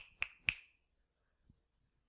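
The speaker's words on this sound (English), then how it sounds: "I can snap my fingers." Fingers snap twice in quick succession, crisp and close, followed by a faint soft thump after a pause.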